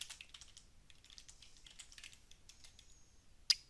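Computer keyboard typing during a network connectivity check: a quick, steady run of light key clicks, close and fairly soft, ending with one sharper keystroke.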